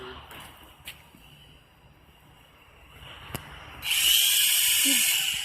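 A WL Toys Q303 toy drone flies with its small motors giving a thin, high buzzing whine that rises sharply and grows loud near the end, with a few faint clicks and thumps earlier.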